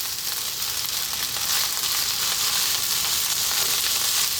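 Egg fried rice sizzles steadily in a hot pan while being stir-fried, a dense, continuous crackle of frying that holds close and even throughout with no voices.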